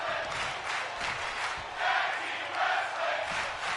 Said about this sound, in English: Crowd chanting for tag team wrestling.